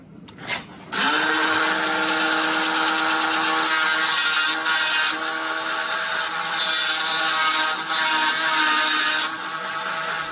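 After a brief click, a steady high-pitched electric grinding whine runs nonstop for about nine seconds as a Granberg electric chainsaw sharpener grinds a chain, loud and close, with slight dips in intensity.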